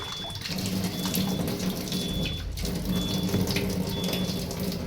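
Water runs steadily from a Kent water purifier filter during deep cleaning, a continuous close hiss and splash with faint thin tones on top, and no talk.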